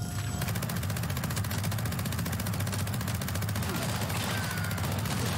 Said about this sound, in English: Go ahead and use my Gauss minigun. Make sure it's loaded first.